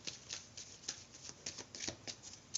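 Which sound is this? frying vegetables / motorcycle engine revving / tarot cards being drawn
tarot cards being drawn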